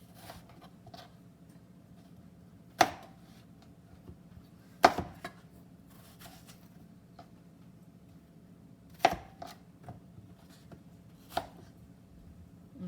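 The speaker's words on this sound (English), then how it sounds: "if some of the pieces are big, you just cut it up a little bit more" A knife chopping cored apples into smaller pieces on a cutting board for roasted applesauce, with a few sharp, isolated chops spaced several seconds apart over a quiet, steady kitchen background.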